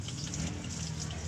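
Water runs steadily from a tap or hose while plants are being watered, a continuous close gushing flow with no pauses and no voices.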